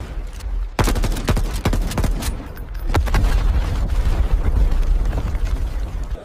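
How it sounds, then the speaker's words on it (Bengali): A loud burst of rapid gunfire crackles nonstop for several seconds, sharp repeated shots merging into a dense fusillade. "এই নাও অস্ত্র, ফায়ার করো। এটা শুটিং টেস্ট।"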